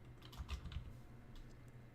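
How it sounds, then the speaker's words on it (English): A clicky computer keyboard is typed on in a short burst of several sharp, close keystrokes, then a few quieter taps trailing off, with no talking. "if you can hear my keyboard"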